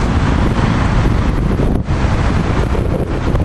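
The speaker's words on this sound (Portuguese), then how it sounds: "Tá ventando pra porra" Strong wind roaring across the microphone at Praça Marques de Pombal in Lisbon, a loud continuous rushing buffet with one brief dip, and no voices.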